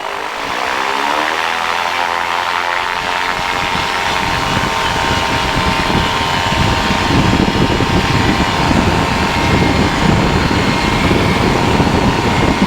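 Paramotor engine revving up for takeoff in light wind, a loud steady propeller drone rising in pitch over the first few seconds and then holding strong and continuous, close to the ear.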